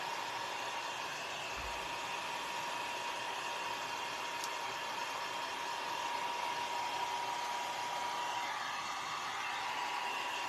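A hand-held dryer blows steadily on wet paint on a farmhouse-style chicken decor craft, giving a continuous, even whooshing hum close by that lasts the whole stretch without pause.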